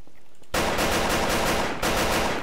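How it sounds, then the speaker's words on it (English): Assault rifle firing in a Garry's Mod roleplay shootout, two loud, close automatic bursts split by a brief pause. "Shots fired!"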